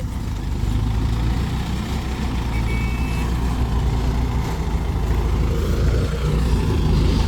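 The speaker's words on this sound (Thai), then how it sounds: "สาจอย รับหน้าที่ขับเจ้า ซีรีส์500" A Series 500 tractor runs on a muddy site, its heavy engine droning steadily and loudly throughout with a constant low rumble and no pauses.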